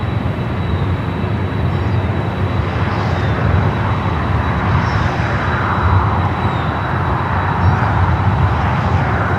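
A jet airliner taxiing toward runway 24 Left at LAX, heard as a steady, broad engine rumble and roar with a faint high whine, continuous and fairly loud throughout with no talk.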